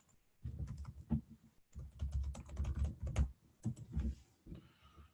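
Rapid bursts of typing on a computer keyboard while a search term is entered into a real-estate data site, close and clear with short pauses between runs of keystrokes and no talk.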